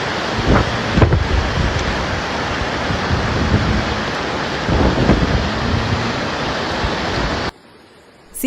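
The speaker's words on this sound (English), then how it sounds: "heavy rains and gale-force winds tormented the province overnight" Heavy overnight rain and gale-force wind in a storm over the Western Cape, a dense, roaring wash of downpour with gusty surges and low rumbles, loud and steady for most of the clip before cutting off abruptly.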